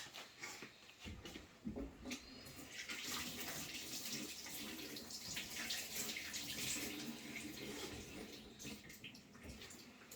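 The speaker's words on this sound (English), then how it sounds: "I'm going to wash my hands now" Running tap water splashes steadily over hands at a kitchen sink, a continuous close rush of water lasting throughout with small shifts as the hands move under the stream.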